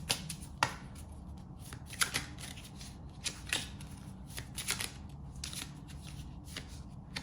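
Tarot cards shuffled by hand in a quiet room, a run of soft riffling and flicking bursts with sharper snaps every second or so, steady and close with no talk.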